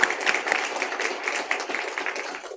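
A church congregation claps during a Sunday worship service, a short burst of moderately loud, fairly even applause that fades toward the end.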